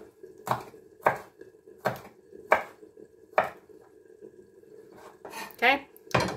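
A knife slices through prawn-dish ingredients on a cutting board in a kitchen, about six distinct evenly spaced chops landing close and crisp, with faint room noise between cuts.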